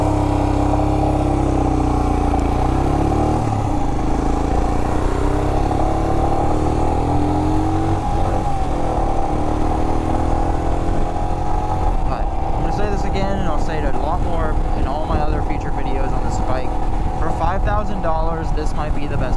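A 2021 Royal Enfield Himalayan BS4 motorcycle engine drones loudly and steadily while riding, its pitch shifting with throttle changes, under heavy wind buffeting.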